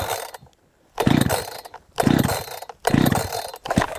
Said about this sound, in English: we're going to turn the switch on, pull our choke out, hit our decompression switch